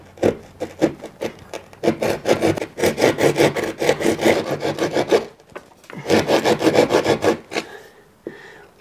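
A handsaw cuts a hole through a wall for a blanking plate, rapid rasping strokes running in two long bursts separated by a brief pause, loud and close with no talk.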